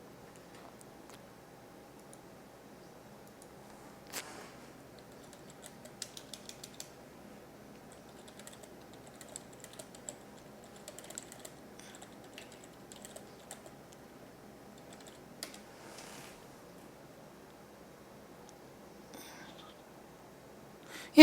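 Computer keyboard keys are tapped while playing a PC game, with faint, sparse clicks scattered across a quiet background.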